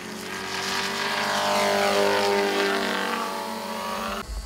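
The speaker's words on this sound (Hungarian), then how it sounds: "Igaz, utóbbit időnként megtörte a modellek motorjainak hangja" Model aircraft engines flying at a small airfield gathering, a loud continuous buzzing drone that swells and fades as the planes pass overhead.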